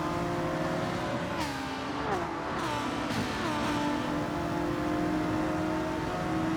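Racing car engines in Gran Turismo 7, with a pack held up behind an NSX: loud, continuous engine drone with revs rising and dropping through gear shifts, no talk.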